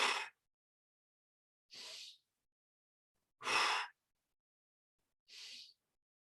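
Four separate forceful exhales through the mouth during decompression breathing in a fitness workout, each short breath puffing out clearly with long silent pauses between them.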